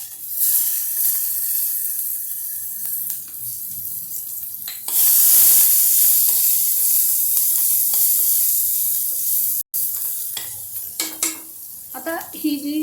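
Onion fries in a pan of hot oil for chivda misal, a steady sizzle with a louder hiss as ingredients hit the pan, and occasional scraping and stirring clatter close by.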